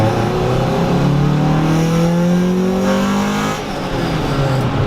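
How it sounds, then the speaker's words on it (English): A Honda Civic EG6 SiR2 engine revs hard through a full pull, its note climbing steadily as VTEC engages and the pitch rises sharply, loud and close inside the car with no talking. "After 5 grand, it just comes alive and it revs out to 82"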